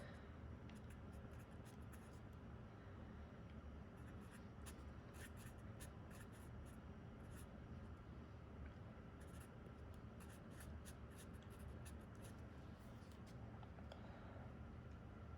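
Someone writing out a chemistry equation on a board, producing quiet scratchy strokes in short clustered bursts with brief pauses, over a faint room hum.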